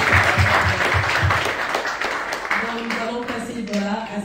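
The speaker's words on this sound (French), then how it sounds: "nous pouvons inviter l'assemblée à applaudir" A church congregation applauds during a French-language service, a dense wash of clapping for about two seconds that fades as a voice begins speaking over the last of it.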